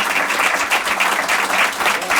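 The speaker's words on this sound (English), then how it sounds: "let's give them a round of applause for just being the teachers they are" An audience applauds teachers at a Capitol Hill briefing, with dense, steady clapping from many hands filling the room at close range.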